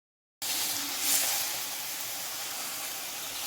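Drumstick and yam leaves with onion, small chilies and oil are stirred in a hot pan, a steady close sizzling hiss that starts abruptly and holds even and loud.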